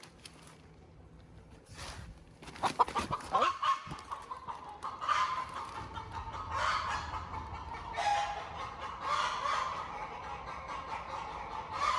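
A hen clucks after laying an egg, a series of close, repeated clucks and cackles running on and off over several seconds, with a single brief spoken exclamation early on.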